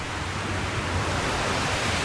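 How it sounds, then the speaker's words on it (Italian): Waterfall in the Dolomite mountains, a dense, steady roar of falling water heard from nearby with no voices over it. "E una cascata dopo l'altra, questa è la terza che vediamo"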